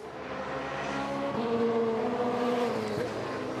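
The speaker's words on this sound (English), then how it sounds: "Did you hear the engine just flaring onto the limiter in fifth gear over the top of the crest of the hill there on Mountain Straight?" A race car on a qualifying lap at Bathurst's Mountain Straight holds a steady, loud engine drone with shifting pitch, heard as an onboard tone for a few seconds.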